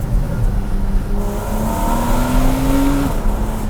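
A Porsche GT3 idles and pulls gently in sport mode with its exhaust valves closed, giving a steady, subdued engine drone with a slowly rising tone. It stays muted and fairly close throughout, with no talking.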